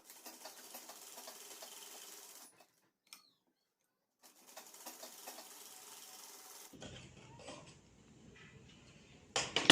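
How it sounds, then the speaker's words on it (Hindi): A sewing machine stitches a dress neckline with a quiet, steady whirring run, stops for a short pause, runs again, then gives way to softer rubbing fabric handling. "डॉट टू डॉट इस तरह से रखेंगे और बीच में सेंटर में इस तरह से सिलाई लगा लेंगे।"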